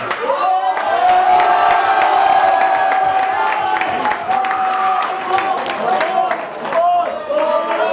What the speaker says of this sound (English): You guys didn't cheer nearly that loud when I came up.